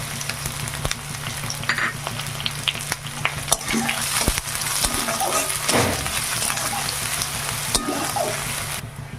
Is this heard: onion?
yes